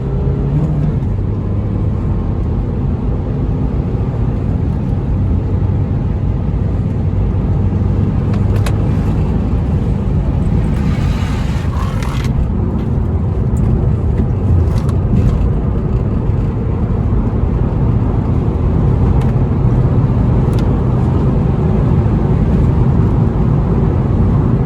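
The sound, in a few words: Peugeot RCZ stage 1 car driving and accelerating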